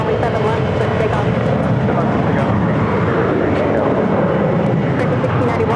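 A fixed-wing airplane taking off from runway 7 left at Phoenix, a loud continuous engine roar and rumble filling the clip, with radio talk mixed in.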